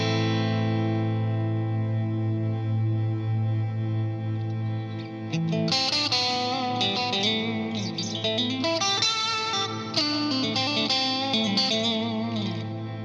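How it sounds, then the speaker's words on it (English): A guitar chord held by a TC Electronic Infinite Mini sampler pedal rings on as a steady, sustained drone while picked notes with effects play over it, no voices. "I push the foot switch once, it will sample whatever it is hearing, like a note, or I could sample an entire chord like this"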